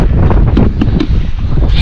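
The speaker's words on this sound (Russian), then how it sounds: "Ветер такой промозглый" Cold, raw wind gusts over a frozen lake in winter, buffeting the microphone with a loud, continuous rumbling roar that swells and dips throughout.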